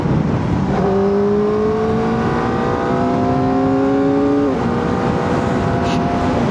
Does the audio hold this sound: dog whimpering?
no